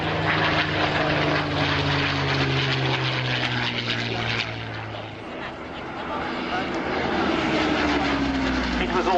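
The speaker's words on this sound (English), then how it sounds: "as we watch the Spitfire coming to land" A Supermarine Spitfire coming in to land at the Shoreham airshow: a loud, throaty propeller-engine drone whose tones slide gradually lower, easing back for a moment midway and then swelling again.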